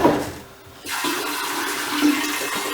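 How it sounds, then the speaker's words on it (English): Water pours into a kombucha fermentation vessel after a brief pause, a steady close gushing fill that keeps running to the end. "all we're going to do is top it off with water"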